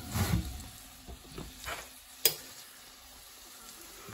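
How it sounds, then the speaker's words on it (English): Venison tenderloins pan-searing, a soft sizzle with faint stirring and scraping in the pan and one sharp clink partway through, heard up close and fairly quiet. "Those are venison tenderloins, pan-seared."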